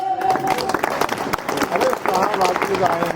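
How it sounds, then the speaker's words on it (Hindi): An audience claps at a Hindi stage comedy or speech event, with scattered, uneven clapping and crowd noise while a voice talks over it. "एक बार बहुत अच्छे ताली बजाए तो देखो"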